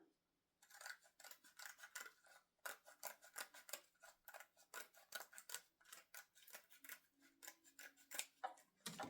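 Scissors snipping through a bling sticker sheet for a Christmas ornament, a quick run of close, crisp, rhythmic cutting clicks and rasps, quiet overall and without speech.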